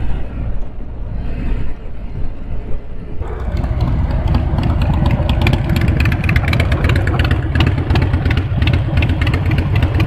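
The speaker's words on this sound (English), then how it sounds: "it sounds awesome with the Vance & Hines short shot exhaust" Harley-Davidson Iron 883 from 2016 fitted with a Vance & Hines Short Shots exhaust, a deep steady engine rumble that thickens into a louder, continuous running drone, close and alone without talk.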